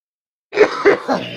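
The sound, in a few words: coughing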